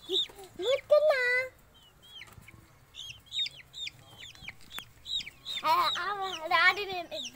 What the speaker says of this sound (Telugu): ఇది నల్ల కోడి